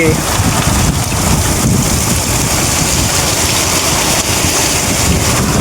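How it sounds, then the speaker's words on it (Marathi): Heavy monsoon rain in the Konkan region of India: a loud, constant wash of downpour that fills the whole time without a break, with faint voices under it. "खूप जोरात लागता पाऊस."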